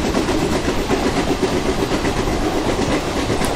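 WG5 locomotive hauling a rake of OMGC tanker wagons rolls past in the Open Rails train simulator, a steady rumbling drone with continuous wheel clatter, loud and close throughout.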